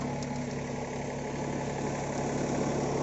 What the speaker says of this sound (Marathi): ट्रॅक्टर आहे तो आमचा फोर व्हील ड्राईव्ह ट्रॅक्टर आहे